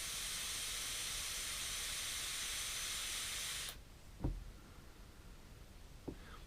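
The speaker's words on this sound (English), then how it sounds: "That was a good draw off that, and I think you'll agree there was no burning, no dry hits." An airy, steady hiss of a draw through a Footoon Aqua Pro water-pipe vaporizer runs for several seconds and then cuts off abruptly, followed by a couple of faint soft knocks in a quiet room.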